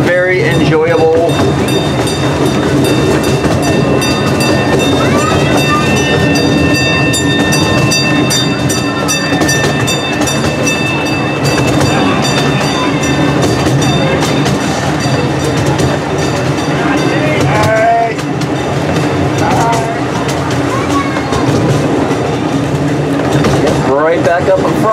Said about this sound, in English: Very nice train ride.